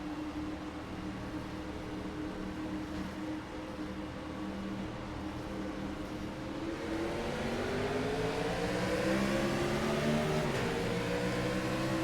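A race car in the iRacing sim accelerates off the start at Charlotte, its engine drone rising steadily in pitch through the gears with a steady loud hum and no talk.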